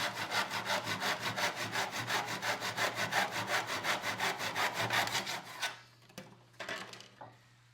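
A hand saw cuts quarter round trim in a miter box with steady, rhythmic back-and-forth strokes, close and even, about twenty passes before the blade stops, followed by a few light knocks.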